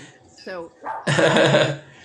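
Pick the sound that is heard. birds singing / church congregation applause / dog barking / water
dog barking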